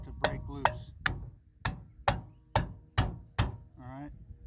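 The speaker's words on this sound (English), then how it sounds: "you get yourself a deep socket and you put it on top of the valve there and you hit it" A hammer strikes a deep socket set on a valve spring retainer of a Mopar 440 engine head, eight sharp metallic blows at a steady rhythm, close and loud, ending in a brief ringing tone.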